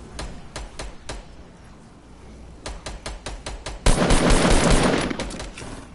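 Gunfire in a Fortnite match on PS4: sharp, separate shots cracking in irregular bursts, followed by a dense, louder volley of rapid automatic fire.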